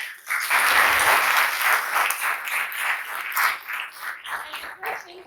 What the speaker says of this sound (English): let us all give a big hand of applause for Mr.